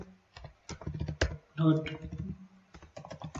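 Quick, clattering keystrokes on a computer keyboard come in short bursts, mixed with someone talking close by.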